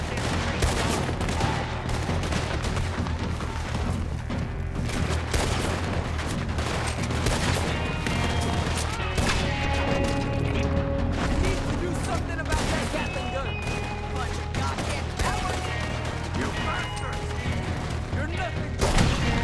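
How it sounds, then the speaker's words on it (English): Gunfire in a Red Dead Redemption 2 shootout, with dense bursts of shots and booms running throughout at a steady loud level, mixed with game music and mechanical clatter, and voices talking over the battle. "Has anyone got a shot from that machine gun?"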